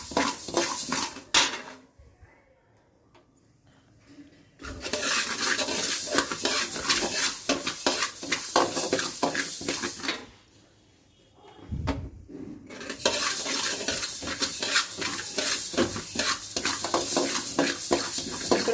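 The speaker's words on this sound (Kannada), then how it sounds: "ಸಾಸಿವೆನೂ ಚಟಪಟ ಅನ್ನೋ ಥರ ಹುರಿ." Mustard seeds are dry roasted in a pan for homemade sambar powder, producing a crackling, spluttering patter with scraping and stirring of utensils, close by, broken by two quieter pauses.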